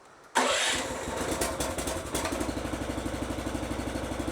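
A petrol engine on a cheap Chinese mini digger fires up with the choke on, catching abruptly after a short crank and then settling into a steady, rapidly pulsing idle, close and alone without talk.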